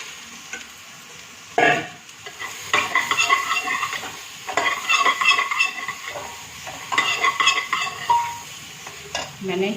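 Chopped bottle gourd and cumin seeds fry in cow ghee in a pan, giving a steady close sizzle broken by repeated scraping stirs that start sharply and continue in bursts.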